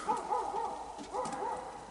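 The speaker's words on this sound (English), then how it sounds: "there goes our dogs." Dogs barking and yipping at night at a distance, faint repeated barks in quick bursts over a soft background hiss.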